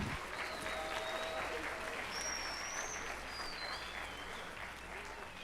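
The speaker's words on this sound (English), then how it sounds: "How about a nice round of applause for Nicholas Traffin?" At a middle school spring band concert, an audience claps for a baritone soloist with even, sustained applause from many hands, accompanied by a few thin whistles rising above, then easing slightly toward the end.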